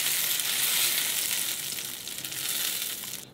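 Spring onions fry in oil in a pan, giving a steady, loud hiss that fills the whole clip with no talking.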